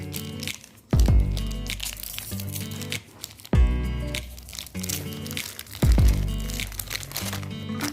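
An Oreo pack is torn open and a cookie crushed for a mug cake, giving repeated crinkling, crunching bursts at about one, three and a half and six seconds, close and loud, with no talk.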